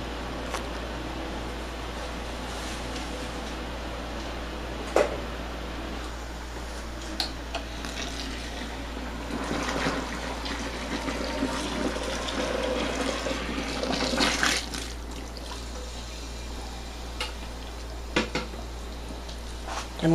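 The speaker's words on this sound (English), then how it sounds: "now I'm about to add some" Boiling water pours and splashes into a plastic fermenting bucket with a hollow, gurgling rush that swells toward the end, punctuated by a few light knocks.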